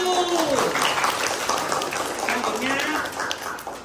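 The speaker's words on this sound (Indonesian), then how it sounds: "Tepuk tangan untuk kelompok 1." Students in a school mathematics classroom clap together for a group, a brisk burst of applause mixed with lively voices and chatter.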